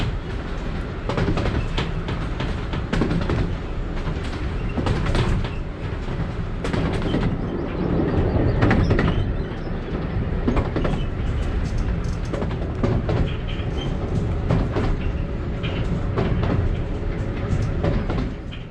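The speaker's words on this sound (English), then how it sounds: "I'll put out a separate video on the journey down the railway" A heritage railway train rolls steadily along the track, its wheels clattering rhythmically under a constant rumble of the carriage, close and loud throughout.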